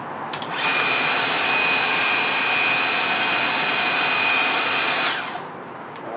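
A Worx 40V HydroShot cordless portable power washer sprays with its nozzle set to 0 degrees, a loud steady hissing rush with a high motor whine that starts abruptly and cuts off after about five seconds.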